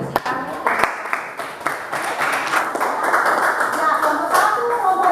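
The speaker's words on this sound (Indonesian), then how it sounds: "luar biasa ya untuk kita tepuk tangan" Students in a classroom clap together for a presenting group, brisk overlapping handclaps close by that swell into a steady patter, with some voices mixed in.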